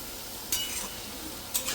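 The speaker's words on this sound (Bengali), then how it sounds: "চিকেনটা আমি সেদ্ধ করে দিই আজকে আবার ফ্রাই করে দিচ্ছি" Chicken pieces fry in a hot pan at home, a soft steady sizzle with two brief bursts of stirring or clinking, heard close and alone.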